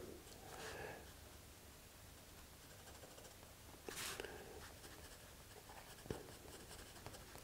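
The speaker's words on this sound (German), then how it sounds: "jetzt zeichnen wir hier noch eine lockere Schraffur runter" A pencil hatches loose strokes across paper, giving a soft, close scratching with a few brief louder swishes, quiet and alone.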